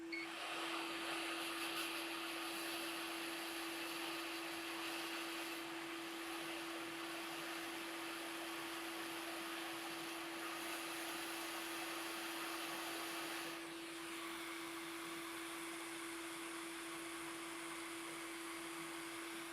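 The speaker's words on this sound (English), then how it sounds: "I'm gonna use some hot air and just heat this up" A hot air rework tool blows steadily while heating a component on a PS5 board, a continuous airy hiss with a fixed whine, close and even throughout, with no talk.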